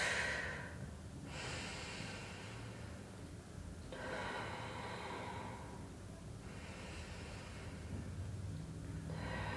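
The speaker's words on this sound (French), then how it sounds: "Inspirez par le nez, soufflez par la bouche." Slow, steady breathing during a Pilates stretching class, with deep inhales through the nose and longer exhales blown out through the mouth, in repeated cycles, close and alone without talk.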